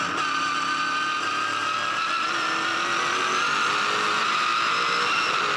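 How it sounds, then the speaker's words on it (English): A V8 Supercar engine screams at high revs through a lap of Oran Park during a 2008 Fujitsu V8 Supercar Series race, a loud, sustained in-car howl whose pitch rises and shifts steadily through the gears. "That's a good indication of what it does sound like in a V8 Supercar."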